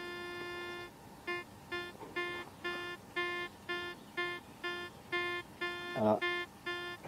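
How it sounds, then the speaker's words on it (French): A TS160 metal detector sounds over a ferrous target. It gives a steady buzzing tone, then a run of about ten short, evenly spaced pulsing beeps. A brief rustling knock comes near the end. No one talks. "c'est juste pour vous montrer le bruit que ça fait d'un ferreux"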